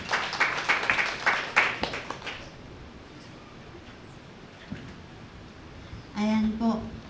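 A church congregation at a Sunday service claps for a couple of seconds, a dense burst of applause that fades into quiet room noise before a voice speaks near the end.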